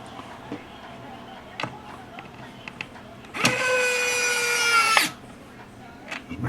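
A power drill whirs steadily for about a second and a half, driving screws into a plastic AR-style toy water gun, with quiet handling noises before and after.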